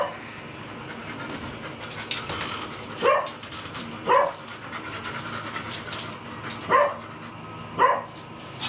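A dog at a door lets out four short, sharp yelps or whimpers spaced a second or more apart over quiet panting and room noise, close by and moderately loud.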